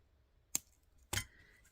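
Scissors snip excess wire on a heart-shaped crystal suncatcher, two sharp close clicks about half a second apart in a quiet room.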